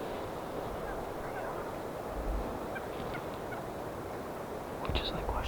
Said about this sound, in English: we got a pack of turkeys and they're working their way up this